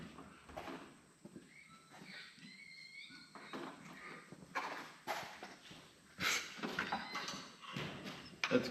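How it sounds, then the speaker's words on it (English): Horses clip-clopping and snorting at a moderate distance, with irregular hoof sounds and occasional whinnies amid outdoor background noise. "That's gotta be horses"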